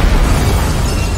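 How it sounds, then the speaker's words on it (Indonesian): A loud, dense explosion blasting open a bank vault during a film heist, a sustained roaring rumble filling the whole moment with no pauses. "Tiba-tiba terjadi ledakan besar untuk menghancurkan brankasnya."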